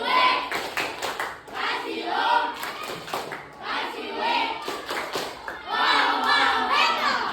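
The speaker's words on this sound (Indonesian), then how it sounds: "Berikan tepuk apresiasi." A group claps in appreciation during a classroom learning session, with bursts of clapping rising and falling under lively children's and adults' voices, close and fairly loud.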